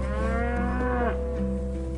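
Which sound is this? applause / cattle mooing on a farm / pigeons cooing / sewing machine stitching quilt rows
cattle mooing on a farm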